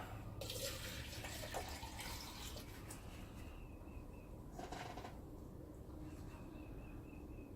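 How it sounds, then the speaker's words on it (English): Steady water pours and trickles into potting soil for tomato transplants for several seconds, a continuous splashing rush with soft shifts in texture, close by and fairly quiet. "And put a little water in it."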